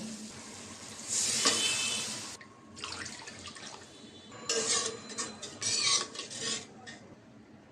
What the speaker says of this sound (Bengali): মশলা কষানো হয়ে গেছে, এখন ঝোল দিয়ে দিব, তারপরে সবজি দিয়ে দিব।